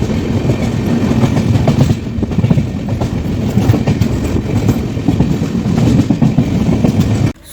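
A train rolls loud and close at Raebareli railway station on a foggy early morning, a continuous rumbling roar with rhythmic clattering of wheels on rails that cuts off abruptly at the end; no voices.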